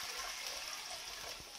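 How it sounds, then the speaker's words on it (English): Water poured from a tin into a pot of tomato alphabet soup, a steady splashing trickle that stays fairly even for a second and a half. "So I move it off the heat and then I add some more water."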